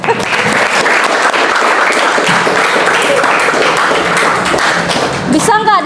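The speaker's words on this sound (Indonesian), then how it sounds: "Wah, ini Ibu senang banget, tepuk tangan dulu." A school class claps hands together at the teacher's request, a loud continuous burst of many small hands in a classroom, with voices mixed in and a brief squeaky sound near the end.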